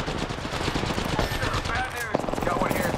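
Dense gunfire in the Apex Legends battle royale, rapid shots crackling close and loud in a continuous burst, with a voice talking over the exchange.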